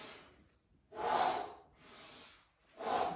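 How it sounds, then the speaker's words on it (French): Breathing during a home workout exercise: sharp, audible breaths out and in alternating in a slow rhythm, close and fairly quiet. "je souffle, j'inspire"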